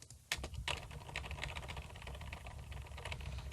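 Rapid typing on a computer keyboard, a steady run of close, crisp key clicks over a constant low hum, with no talk.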